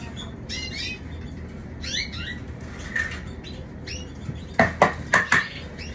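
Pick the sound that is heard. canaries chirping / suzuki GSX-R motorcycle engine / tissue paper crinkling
canaries chirping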